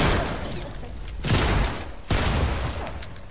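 Gunfire in an online shooter video game: two loud bursts of shots about a second apart over dense background noise, with no speech.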